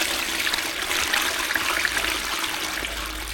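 A toilet flushes with steady rushing, trickling water, moderately close and continuous, while a foam-cleaning rim block in the bowl releases bubbles, with no talk over it.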